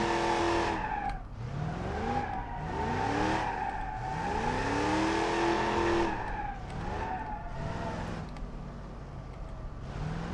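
Muscle car in BeamNG.drive doing donuts: a loud engine revving up and down in sweeping pitch arcs over continuous tire squeal and skidding, sustained throughout with no talk.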